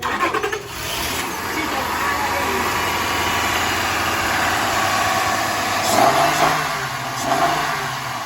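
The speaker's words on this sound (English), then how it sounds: "we are going to try and start this vehicle up" The engine of a 1999 Acura TL cranks, starts and settles into a steady, loud idle with a couple of light revs, heard up close with people talking over it.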